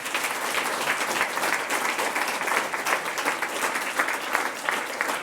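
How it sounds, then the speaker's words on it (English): Audience applause at a London awards ceremony for finance, steady dense clapping from a large crowd that holds evenly throughout without a break. "Give them all a round of applause"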